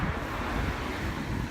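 Outdoor wind buffeting the microphone in a steady, rumbling rush for about a second and a half, with no talking.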